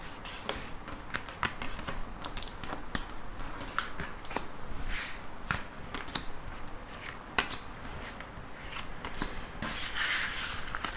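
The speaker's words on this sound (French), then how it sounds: "Donc, on va prendre 6 cartes." Tarot cards shuffled and drawn by hand, a dense run of crisp paper riffles, slaps and snaps that continue steadily at close range, with no voices.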